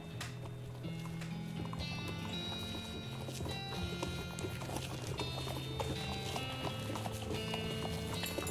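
Rhythmic clip-clop of horse hooves at a trot in the video game West of Loathing, steady and continuous, over a bed of background music with sustained tones.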